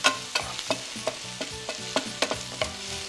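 Peas and vegetables sautéing in a pan, a spoon scraping and stirring in regular strokes over a steady low sizzle, close and moderately loud with no talking.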